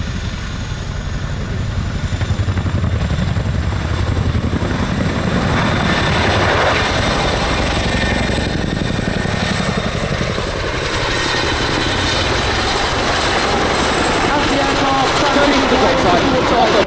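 A large twin-rotor Chinook helicopter roars continuously close by at an air show, a loud, steady engine and rotor drone with chopping throb throughout.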